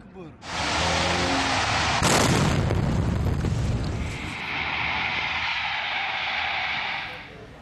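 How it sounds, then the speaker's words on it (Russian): A sudden loud blast from an explosion at a gas station in Grozny bursts out over a steady roar, followed by a long rumbling, hissing wash of noise that fades after several seconds. "В тот момент прогремел мощный взрыв."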